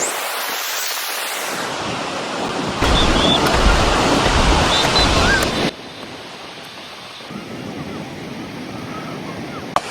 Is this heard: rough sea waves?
yes